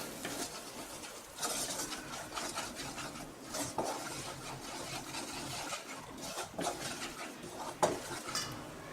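Green pea halwa with ghee and milk powder is stirred in a pan, with repeated spoon scrapes and clinks against the metal over a low, faint sizzle.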